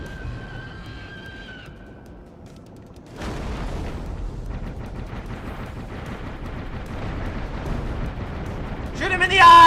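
Gunfire aimed at a giant lobster boss in the Dave the Diver video game, a quiet start giving way to a sustained rumble of shots and booms that swells louder at the end.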